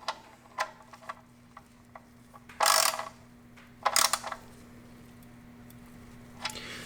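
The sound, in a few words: tightening oil drain plug on Toyota RAV4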